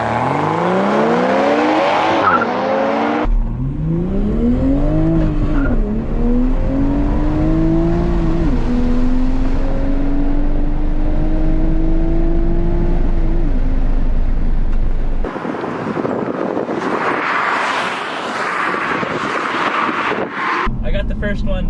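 Two Toyota GR Supra sports cars, one manual and one automatic, drive hard on a road with a loud engine tone rising through gears, wind noise buffeting the microphone, and a voice speaking over it at the start and end.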